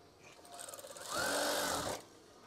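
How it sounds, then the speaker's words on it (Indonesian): Sewing machine stitching curtain fabric, starting with a few quick pulsing stitches and then running in one steady, close whirring burst for about a second before stopping. "Jahit. Dari awal hingga akhir."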